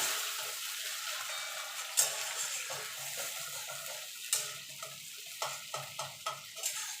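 A paste of ginger, tomato and green chilli sizzles in hot oil in a pan while a spoon stirs it, steady frying hiss punctuated by sharp scraping clinks against the pan, close up.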